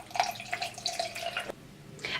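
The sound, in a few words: tap water rinsing makeup brushes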